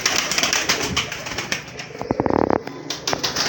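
A high-flyer breeder pigeon coos with low throaty calls amid a brief burst of rapid wing flapping, close by, with no talking.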